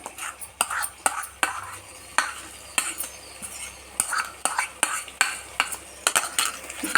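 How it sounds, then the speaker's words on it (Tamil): A paste of coriander, mint and green chili is sautéed in a pan for egg biryani. A spoon scrapes and clinks against the pan in a quick, irregular rhythm over a soft sizzle, close by, with no talk. "நல்லா வதக்கிட்டு இது வதங்கிட்டு இருக்கட்டும்."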